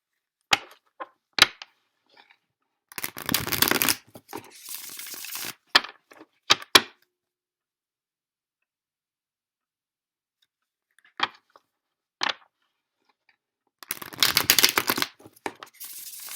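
Tarot cards handled and drawn during a reading: crisp shuffling bursts and snapping card slaps come in scattered clusters, with quiet stretches between them and no talk.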